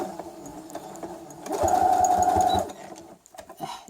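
A sewing machine back-stitching the end of a fabric face mask strip, a loud steady mechanical whirr running for about a second, framed by quieter intermittent stitching bursts before and after.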